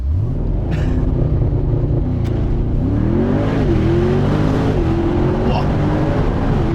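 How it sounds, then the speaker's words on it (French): A 2022 Mercedes SL63 AMG fires off a launch-control start, its engine roaring loud and close inside the cabin as the revs climb through rising gear pulls, with a voice talking briefly over it. "Je vais vous refaire un petit launch control."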